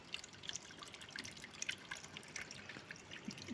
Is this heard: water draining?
yes